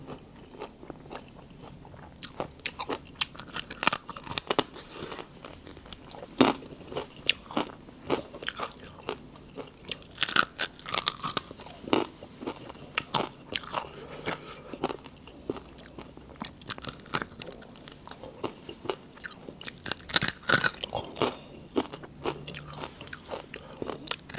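Crispy pork eaten with Thai papaya salad (tam sua), with close, loud crunching bites and chewing that repeat steadily with short pauses, and no talking.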